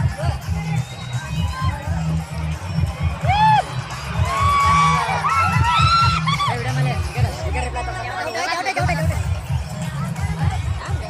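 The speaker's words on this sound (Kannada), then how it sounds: "ನೋಡಿ ಗೈಸ್ ಕ್ರೌಡ್ ಆಗತ್ತೆ ನೋಡ್ರಿ" Loud crowd cheering and shouting with whoops fills a packed outdoor screening of an IPL final between RCB and GT in KCD, a dense roar with rising shouts throughout, voices talking over it.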